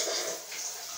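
Water runs steadily from a tap in a short, faint, continuous hiss with no voices.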